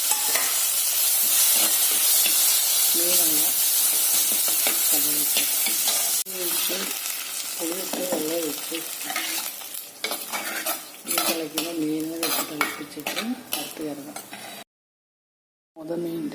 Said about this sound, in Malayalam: പുളിയും വെള്ളം ഒഴിച്ച് തിളച്ചു